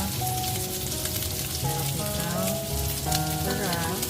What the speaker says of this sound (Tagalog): So, magisa na tayo ng onion at garlic.